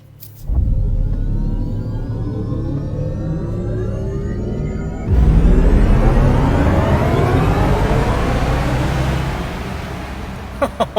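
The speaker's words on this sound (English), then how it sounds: "You want to hear the race start sound?" Synthetic race-start sound from a Mercedes AMG EQS electric car, a loud rising engine-like roar that steps up sharply midway, then holds and swells before ending with a couple of brief clicks.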